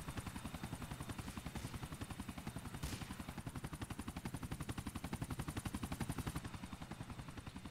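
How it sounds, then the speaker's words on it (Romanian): A helicopter in GTA IV chops loudly and steadily, its rapid rotor beat filling the scene at close range and holding constant throughout. "vine și un elicopter după noi"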